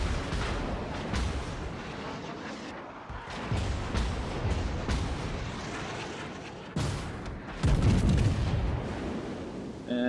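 Heavy naval gunfire from the Jean Bart battleship in World of Warships, with repeated deep booming salvos, the loudest blast near the end, over continuous rumbling battle ambience.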